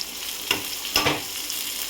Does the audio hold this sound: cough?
no